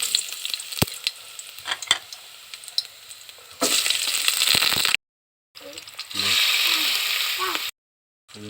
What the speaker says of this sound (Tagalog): Igigisa natin sa kaunting baboy